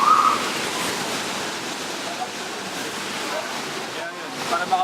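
Constant rushing water from Mother Falls in Baler, Aurora fills the scene as a broad, steady roar, heard from a short distance with some wind buffeting the microphone.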